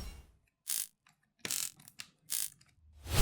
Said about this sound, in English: remove the 4 tri-wing screws out the back